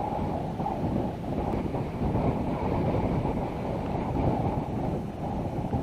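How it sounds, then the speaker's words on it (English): Strong wind buffets the microphone on a golf course in a constant, loud low roar with no pauses. "the wind was something else on our second shots"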